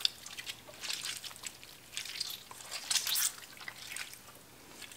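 Soft wet squishing and dripping as homemade melted mozzarella is worked loose from a colander, with scattered small squelches and a brief louder burst of sticky handling near the end.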